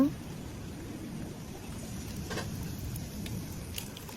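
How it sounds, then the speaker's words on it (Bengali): Chicken fries sizzle in a pan of hot oil, a steady close crackling hiss with faint pops throughout. "এখন আমি চিকেন ফ্রাইগুলো ভেজে নেব"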